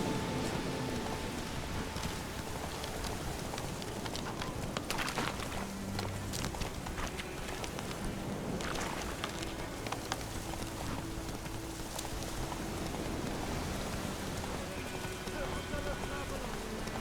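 Steady rainfall in The Witcher video game pours across the whole stretch as a dense, even hiss, with faint hoof clops and footsteps beneath it.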